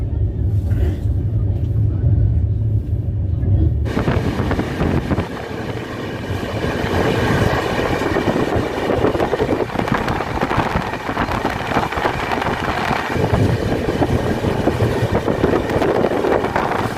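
An Indian Railways superfast express, the Jaipur–Yesvantpur 20668, runs on rails through rocky Karnataka country past Bellary, giving a steady loud rumble and broadband clatter of wheels over track, sustained throughout with no voices.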